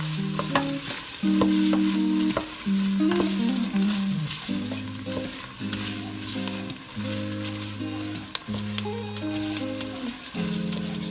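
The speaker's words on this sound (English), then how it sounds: "You're probably gonna saute them for about 15 minutes until they soften up." Onions, bell peppers and garlic sauté in a pot for crawfish etouffee. Steady close sizzling carries on throughout, with scraping stirs now and then and a low humming tone in the background.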